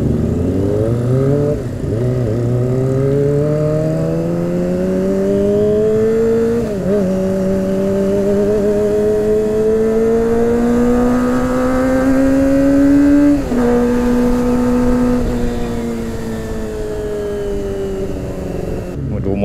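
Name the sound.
cars revving and driving past on a street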